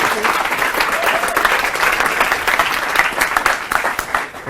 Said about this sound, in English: If we could just give him a round of applause.